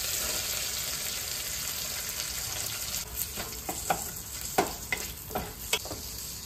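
Chopped onion sizzles in hot oil in an Instant Pot, a steady frying hiss with a few sharp stirring scrapes and clinks toward the end; no talking.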